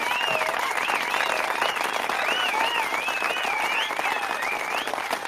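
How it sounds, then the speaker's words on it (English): A crowd gives a sustained round of applause, dense steady clapping with whistle-like tones rising above it throughout. "Give a round of applause there."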